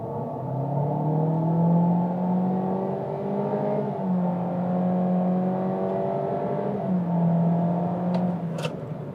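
A 2023 SUV, Honda HR-V Touring or Hyundai Creta Ultimate, launching hard from a stalled start in an acceleration test: loud, steady engine drone rising through gears, with pitch dips at each shift, heard from inside the cabin.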